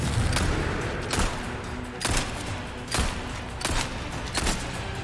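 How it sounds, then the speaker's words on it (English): Gunfire while shooting enemies in Resident Evil 4's Separate Ways DLC: five or six sharp shots spaced about a second apart, each a broadband crack over a steady game backdrop. "Do I just have to shoot them all?"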